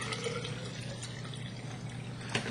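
Water running steadily into a paintball pod, a continuous close, soft gushing with a faint splash near the end.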